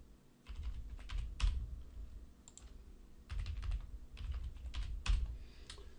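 Typing a password on a computer keyboard: soft, close clusters of rapid key taps in several short bursts separated by brief pauses, over a low background hum.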